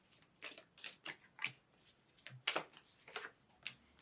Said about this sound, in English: feel like these cards are not shuffling great all of a sudden.